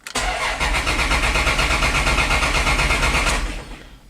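A Dodge Dakota 3.9 engine cranks over after stalling, a loud, continuous rhythmic starter churn close by for about three and a half seconds, then it cuts off, with no voices.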